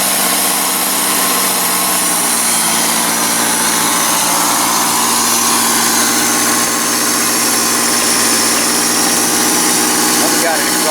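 A 1982 Chevrolet Camaro engine, fed from a fuel cell and with an exhaust manifold leak, runs loudly and continuously after its first start in twenty years, a steady close idle throughout.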